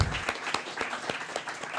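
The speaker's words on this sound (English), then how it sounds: "Can we get one more round of applause?" Audience applause at a book reading in a bookstore, a steady wash of many hands clapping with sharp individual claps standing out, sustained throughout without talk.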